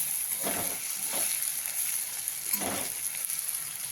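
Green chillies and masala sauté in a hot pan with a steady, bright sizzle, broken by a few louder stirring bursts, close and continuous with no talking.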